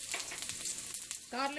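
Ginger sizzles and crackles in hot sesame oil for an Indo-Chinese vegetable Manchurian, a steady close frying hiss with a brief clatter near the end.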